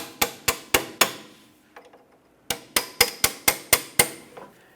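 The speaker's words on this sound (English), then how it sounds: "Now we'll remove the bolt by driving it out from the rear towards the front." A hammer drives a bolt out of a front sway bar end link on a 2003-2007 Honda Accord. Two bursts of sharp metallic blows land close up, four quick strikes, a pause with faint clinks, then seven more in steady rhythm.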